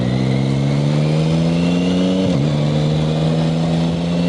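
A Yamaha Tracer 9 GT motorcycle in drive mode 4 pulls away with a loud, close engine drone that climbs steadily in pitch, then dips briefly as it shifts and carries on.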